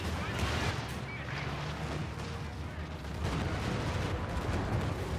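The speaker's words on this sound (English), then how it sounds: "a pretty big Stuka strike was able to deal some heavy damage to the Allied infantry here" Stuka dive bomber strike in Company of Heroes 2, a dense barrage of rumbling explosions and gunfire rolling continuously over several seconds.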